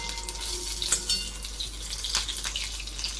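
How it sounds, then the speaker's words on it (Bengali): Hot bora fritters frying in a pan, a steady fine crackling sizzle with a few sharper pops, close by and fairly quiet, no talking. "এখন আমি এই গরম গরম বড়াটা ভেজে নিই"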